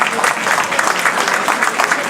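A crowd applauds steadily and fairly loudly for about two seconds, many hands clapping together without a break, at a Senegalese delegation's post-match celebration.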